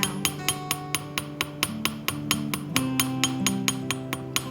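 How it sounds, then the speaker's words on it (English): Metal being planished flat with a hammer, a steady run of sharp, ringing strikes at an even rhythm, about four per second, close and clear with a sustained metallic tone beneath. "right now we're just hammering it flat"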